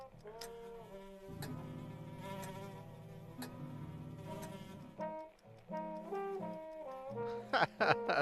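A fly buzzes steadily and up close in a video game, a continuous whine layered over game music with shifting tones and brief clicks toward the end.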